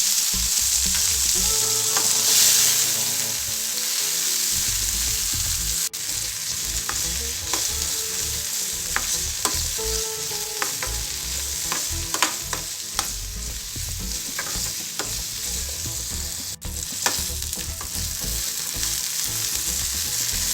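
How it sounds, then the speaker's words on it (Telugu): Raw tomato pieces sizzle steadily in hot oil in a pan, a continuous close frying hiss with occasional stirring clicks and scrapes running throughout. "ఆయిల్ వేడిన తర్వాత పచ్చి టమాటో ముక్కలు వేసుకోవాలి"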